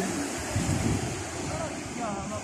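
Strong ocean waves at Jeddah beach, a continuous rushing surf roar with heavy wind buffeting the microphone, heard close and loud.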